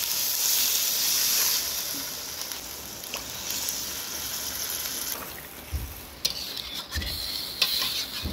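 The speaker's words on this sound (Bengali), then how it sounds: "এবার জল দিয়ে দেবো।" Water poured into a pan of fish curry being fried, a hissing sizzle and steamy bubbling with occasional stirring scrapes, moderately loud and close, no voices.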